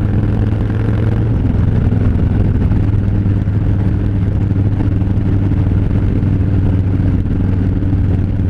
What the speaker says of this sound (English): A lot of bikes out today.